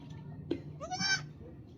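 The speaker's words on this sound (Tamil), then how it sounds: "ஆட்டுக்குட்டி பால் கேட்கின்றன" Goat kids wanting milk give one clear, nasal bleat close by, with a short sharp cry just before it, over low murmuring background noise.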